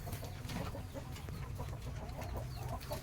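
Several chickens, Brahma and heritage breeds, cluck softly and continuously, with occasional louder clucks rising from a steady farmyard murmur.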